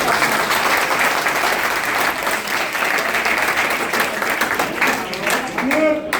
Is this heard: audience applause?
yes